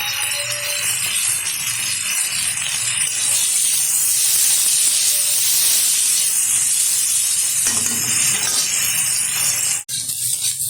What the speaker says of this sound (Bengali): এখন দিয়ে দিচ্ছি টুকরো করে রাখা আলু, ভালো করে ধুয়ে পরিষ্কার করে নিয়েছি। এটা সুন্দরভাবে ভেজে নেব।